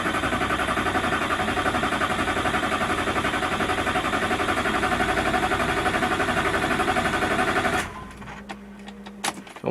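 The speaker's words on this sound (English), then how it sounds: "It's the way it goes when you try and start a diesel again." A Duramax LBZ diesel engine, just fitted with new injectors, cranks with a steady, loud, continuous whir for about eight seconds before the starter cuts off, leaving quiet clicks and faint rattles.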